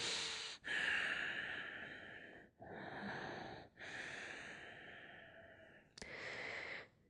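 Slow, deep breaths during a yoga stretch for sore legs: long inhales and exhales with brief pauses between them, close and soft, with no speech.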